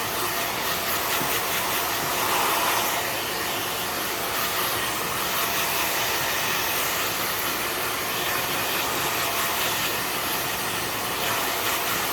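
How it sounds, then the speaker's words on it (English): Hair dryer blowing hair dry upside down, a steady close whooshing airflow running unbroken and fairly loud with no talk. "And I blow dry my hair upside down."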